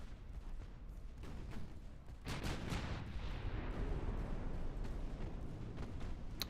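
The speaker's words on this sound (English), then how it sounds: "They just landed another torpedo hit on cavalry." Naval warfare explosions and gunfire from the video game Ultimate Admiral Dreadnoughts, faint and distant-sounding, a rolling series of booms that builds into a denser barrage midway and continues with scattered blasts.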